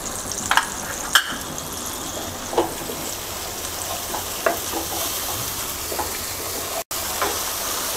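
A spice paste of turmeric, a little water and green chili paste sautés in a pan, sizzling steadily and close, broken by occasional sharp spatula scrapes and taps, with no talking.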